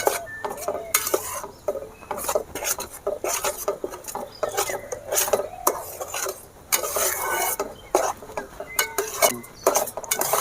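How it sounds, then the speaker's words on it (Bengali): Besan batter stirred in a pan on low heat, a busy series of scraping clinks from a utensil against the metal, quick and irregular, close by, over a faint sizzle. "এবারে হালকা জালে এভাবে নাড়তে হবে"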